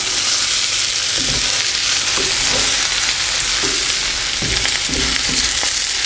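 Potatoes with onions and red peppers frying in butter, a loud continuous close sizzle broken by repeated spatula scrapes and stirs against the pan bottom.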